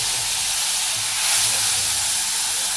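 Vegetables added to hot mustard oil in a pan give a continuous bright hissing sizzle, steady and close, with no talk over it.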